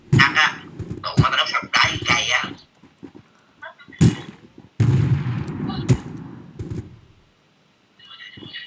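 Gunfire in a video game shooter squad match, sharp bursts and single shots cracking loudly between stretches of excited players' talk.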